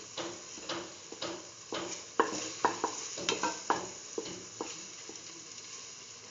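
Eggs cook in a pan with a low steady sizzle, broken by a regular series of light scraping and tapping stirs, close and moderately quiet.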